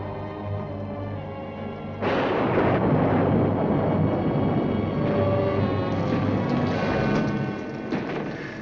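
A heavy, sustained rumble of thunder rolls on for several seconds, swelling suddenly partway through and then slowly fading.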